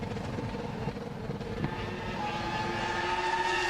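A 2002 Formula One car at the Australian Grand Prix, stalled by a software problem, holds a droning engine note that steadies and rises slightly in pitch, sounding distant and muffled with no talk.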